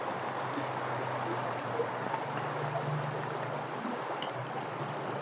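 Strong river water swirling in a powerful whirlpool, a steady, loud, dense rushing and gurgling roar that continues without a break, with no voices.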